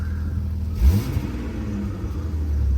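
A 2001 Jeep Grand Cherokee Laredo 4x4 with a 4.0-liter engine and 183,208 miles idles with a low rumble, gives one quick rev, then settles back to a steady idle.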